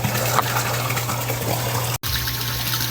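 Deep well water pours steadily and loudly into a tilapia pond, a continuous gushing splash with a low hum beneath it and one momentary cut near the middle.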